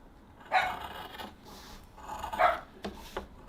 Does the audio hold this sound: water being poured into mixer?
no